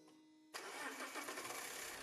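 A cold diesel car engine cranks and catches abruptly after a faint electrical hum, then settles into a rough, loud idle close to the microphone.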